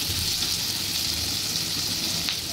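Garlic dropped into hot oil for a jackfruit curry, a steady bright sizzle and crackle of frying, close and continuous.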